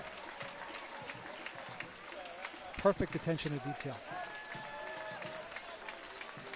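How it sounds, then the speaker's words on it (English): Crowd lining a Fourth of July parade route in Bristol, Rhode Island, clapping for marching Marines; scattered applause under a commentator's voice, with a brief louder burst in the middle. "And there's that applause again."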